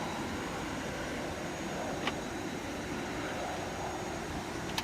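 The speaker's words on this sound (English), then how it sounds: "I've opened the windows, okay? Oh, that's what that noise was." Steady broadband wind rush from opened cockpit windows of a light aircraft in the Prepar3D flight simulator, a constant airy roar filling the whole clip with no talk over it.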